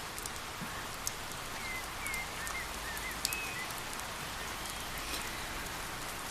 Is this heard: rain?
yes